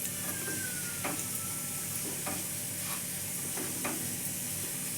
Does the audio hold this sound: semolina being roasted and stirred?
yes